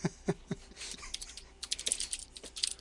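Someone types on a computer keyboard while building an ASP.NET MVC web app. Close keystrokes come in uneven bursts, first a few slower taps and then a quicker run of clicks, with no talking.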